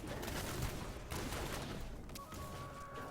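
Rapid-fire grenades from a Demon Hunter exploding in Diablo III: a dense, continuous crackle of overlapping small blasts, steady and busy throughout, heard faintly with no talking.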